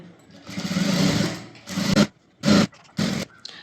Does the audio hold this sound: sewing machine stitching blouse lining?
yes